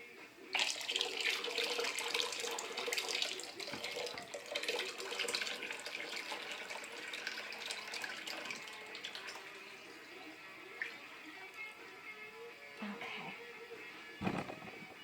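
Melted soap base is poured into a mold, a soft continuous trickling and splashing of liquid that tapers off near the end, fairly quiet and with no voices.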